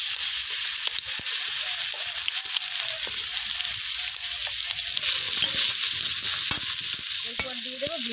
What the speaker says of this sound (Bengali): জিরেগুলো ভাজা হয়ে এসেছে, তবে ওলকপি এবং আলু একসাথে দিয়ে দেবো।